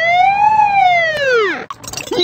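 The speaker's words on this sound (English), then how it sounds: "A siren sounds like this." A cartoon-style siren effect in a Mickey Mouse children's video game, one loud rising-then-falling wail that sweeps down at the end, followed by brief jingly game sounds.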